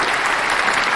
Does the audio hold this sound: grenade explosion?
no